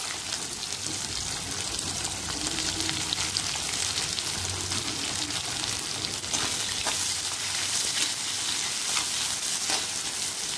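Sliced onions with cumin, dried red chilies and curry leaves frying in an iron kadai for crab gravy, a steady close sizzle with occasional stirring scrapes and pops, no talking.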